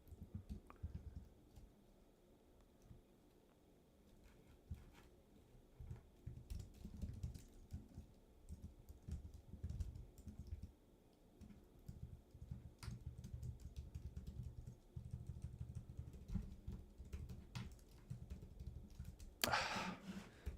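Someone types on a computer keyboard at a desk while writing code, a long run of soft, uneven key clicks and bursts, fairly faint and close, with one louder knock near the end.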